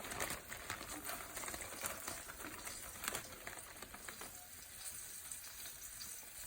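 Morel mushrooms fry in a pan with little seasoning, giving a steady, dense sizzle and crackle that holds at an even level throughout, close and fairly loud with no talking.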